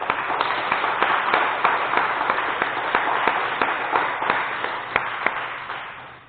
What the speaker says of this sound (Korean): 우리 하나님 앞에 영광의 박수를 먼저 올려드리도록 하겠습니다